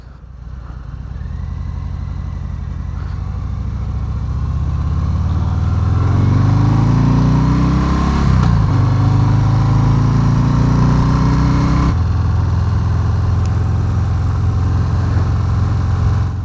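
Harley-Davidson FXDR engine on a test ride, loud steady rumble that rises in pitch as it accelerates through gears, with a brief shift and continued strong drone, no talk.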